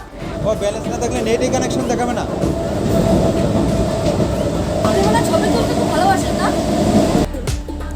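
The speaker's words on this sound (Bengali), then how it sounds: "ট্রেন ছেড়ে দিল কলকাতা শিয়ালদার উদ্দেশ্যে" A train rumbles and clatters as it pulls away from Dhaka bound for Kolkata Sealdah, with people chattering nearby throughout, before the sound cuts off abruptly.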